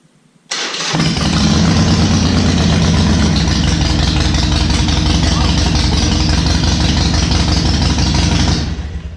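A Harley Sportster motorcycle engine with its fuel pump under repair fires up abruptly and settles into a loud, steady, close-up idle that runs for about eight seconds before fading slightly at the end.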